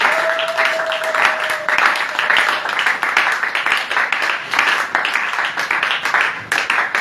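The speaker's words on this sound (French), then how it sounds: "Si tu peux encore acclamer plus fort pour la gloire du Seigneur." A church congregation applauds and cheers in a loud, dense, sustained wash of clapping that runs unbroken throughout, with a brief steady tone early on.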